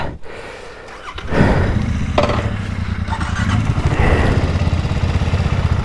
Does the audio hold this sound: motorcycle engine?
yes